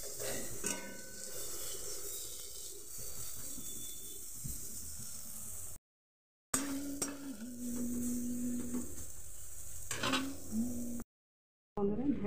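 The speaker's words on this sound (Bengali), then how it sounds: "পেঁয়াজ দিয়ে ভাজা হয়ে গেছে, এখন ডিমের অমলেট করব।" An egg omelette cooks in a pan over onions, okra and potato already fried, with soft continuous sizzling, spatula scrapes and light pan clatter, broken by two short silent gaps.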